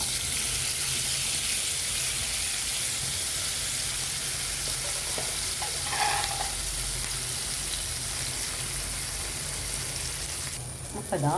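Velloori fish sizzles in hot coconut oil in a pan, a loud, dense hiss and crackle that runs unbroken throughout, with a couple of brief clinks near the middle and end.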